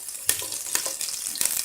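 Chopped green chillies frying in oil for moti pulao: close, steady sizzling with a few sharp crackles and stirring scrapes, no voice over it.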